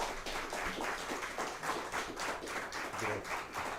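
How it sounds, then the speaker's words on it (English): Small audience at a live afternoon show claps for departing performers, a quiet, steady patter of hands with uneven taps and no voices over it. "Give these guys another round of applause"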